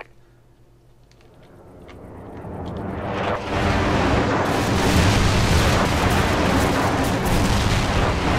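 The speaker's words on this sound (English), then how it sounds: "Friendly airstrike on the way." Airstrike explosions in a first-person shooter video game rise from a quiet start into a loud, sustained roar of rumbling blasts and booms that fills the rest of the stretch.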